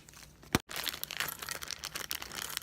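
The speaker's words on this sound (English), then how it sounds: "take some scissors and open these up." Plastic packaging of a set of fake press-on nails crinkles and crackles as scissors cut it open, with one sharp snip early on, then steady close rustling throughout.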